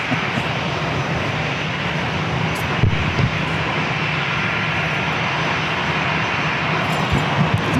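Frontier Airlines Airbus A321 in Badger livery taking off from San Diego airport, a steady, loud jet engine roar that holds throughout without pause, with no talk over it.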